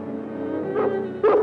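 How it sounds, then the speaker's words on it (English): A dog gives two short barks, one soft and one louder, close by, over a steady sustained tone from a film soundtrack. "And that sounds like King's Bark."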